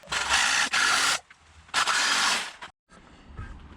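Oil pickup tube being cut during a Mitsubishi 4D55T engine swap, with two loud, harsh, close bursts of sawing or grinding, each about a second long, separated by quieter scraping and handling noises.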